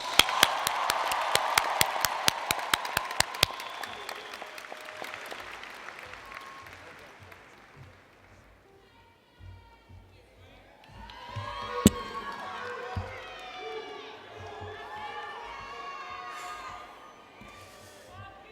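A large commencement crowd applauds and cheers for Bowie State University's graduating class of 2016, loud clapping with whoops and shouts. It thins out midway before a sung melody rises over scattered crowd noise.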